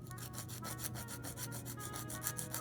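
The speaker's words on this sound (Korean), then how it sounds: "다이소에서 산 네일 우드 파일로 모양을 좀 다듬어 주겠습니다" Rapid back-and-forth rasping of a cheap wooden nail file across a fingernail, shaping it, a steady rhythmic scratch of quick strokes, close up and quiet with no talking.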